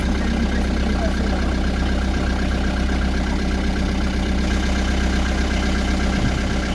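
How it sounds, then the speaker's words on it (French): A sailboat's inboard engine idles steadily just after starting, its idle set a little low, giving a close, continuous low throb with a regular pulse throughout. "On va démarrer le moteur, on est en train de régler ralenti."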